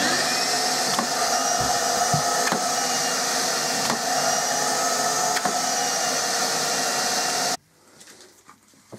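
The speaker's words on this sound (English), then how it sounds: "You can also tell that it's producing a good vacuum when you close it." A workshop dust extraction vacuum roars steadily through a homemade blast gate, a loud sustained whoosh with faint knocks and a tonal change partway, then cuts off abruptly, leaving a quiet room.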